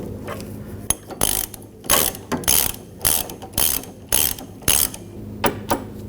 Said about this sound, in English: Now we'll torque that to 23 foot-pounds. Tighten down the rear one.